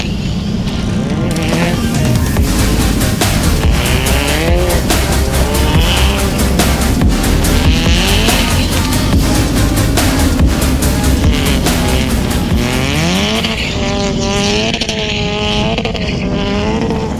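A wrapped car drifts on a wet track in the rain, its engine revving hard and rising and falling in pitch with bursts of tire squeal, loud and close throughout.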